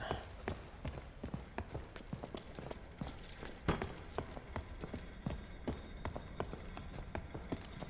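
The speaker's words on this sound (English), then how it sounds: "they are good footstep sounds" Footsteps in the video game Chants of Sennaar, a steady rhythmic series of hard, clopping steps at walking pace, close and fairly quiet, continuing without a break.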